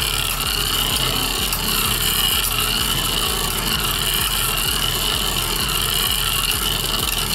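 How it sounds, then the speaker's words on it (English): Hasbro Beyblade Burst tops Kerbeus and Horusood spinning in a stadium, a loud continuous scraping whir with rapid rhythmic rubbing pulses as they circle and grind against each other. "Both Beyblades still spinning pretty strong."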